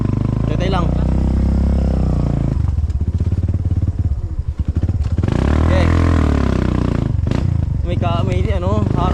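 A motorcycle engine on a rural farm road during a squash harvest runs loud and close throughout, rising and falling as it passes, with people talking over it.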